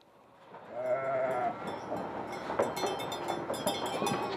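A flock of sheep bleats repeatedly while being trailed to summer forest range, several overlapping calls near and far over a constant low outdoor rumble.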